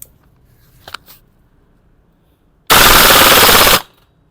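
A WE 888 416 gas blowback airsoft rifle fires a single rapid full-auto burst lasting about a second, loud and close, after a few faint handling clicks in an otherwise quiet room.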